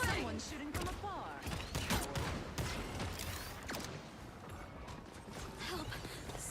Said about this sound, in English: Someone shooting from afar.